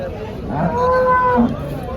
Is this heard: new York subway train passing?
no